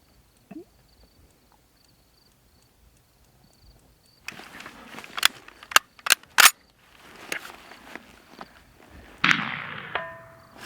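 An M1 Carbine rifle fires a string of sharp, separate gunshots at irregular intervals, crisp and fairly close, followed by a louder ringing metallic clatter near the end after a quiet stretch.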